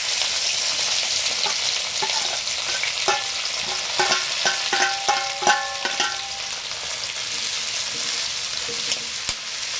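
Vegetables and sliced garlic frying in hot oil for chapathi noodles, a steady loud sizzle with sharp clinks of a spoon stirring against the pan in quick bursts near the middle.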